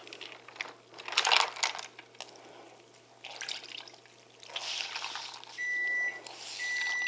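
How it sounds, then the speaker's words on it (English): A hand towel being dunked and swished in a bowl of ice water, with intermittent splashing, trickling and ice clinking in short bursts, close by, plus a couple of brief electronic beeps near the end. "So we're going to get our hand towel wet in our ice water."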